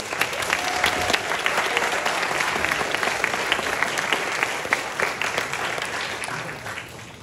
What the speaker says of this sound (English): can we again give a round of applause to Team A?